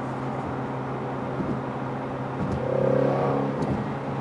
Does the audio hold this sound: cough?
no